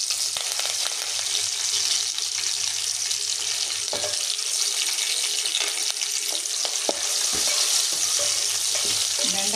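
Okra fries in a pan with urad dal, making a continuous bright sizzle with occasional clatters and scrapes of a spoon stirring, steady and close.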